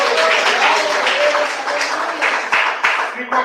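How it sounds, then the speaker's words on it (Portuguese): A church congregation claps in a worship service against angel worship, a thick wash of applause with voices mixed in, thinning toward the end with a few distinct claps. "Me bate mais palmas."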